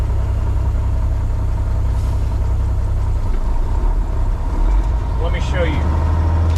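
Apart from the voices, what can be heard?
2001 Western Star 4964EX truck engine while shifting gears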